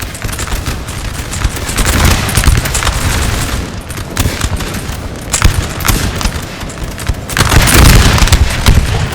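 Massed musket gunfire in the video game Napoleon Total War, loud dense volleys crackling and popping almost continuously with deep booms mixed in, a heavy uneven barrage without speech.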